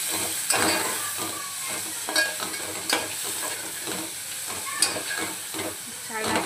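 Onions frying with salt and turmeric for Kolhapuri chicken masala make a steady sizzle, broken by scraping stirring strokes and sharp spatula taps against the pan, heard close and fairly loud.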